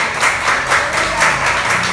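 A church congregation applauds in praise of God, a sustained wash of many hands clapping together with gently rising and falling swells.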